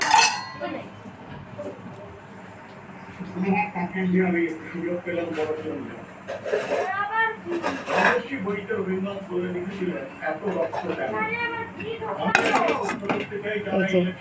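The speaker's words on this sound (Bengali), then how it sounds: "এবার এটা আমাকে কিছুক্ষণ কষতে হবে। আমি একটু দিয়ে কষতে থাকছি।" Boiled kabuli chickpeas being sautéed in a pan, with repeated spoon scrapes and clinks against the metal pan while someone talks over the cooking.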